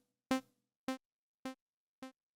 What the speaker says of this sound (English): it's basically a saw wave and a ping pong delay